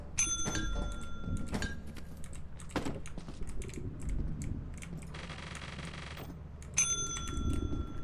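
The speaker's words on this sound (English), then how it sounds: "I'll go ahead and ring the bell." A bell rings in the video game Lethal Company, a bright metallic ding struck twice with long sustained tones, once near the start and again near the end, amid keyboard clicks and game noise.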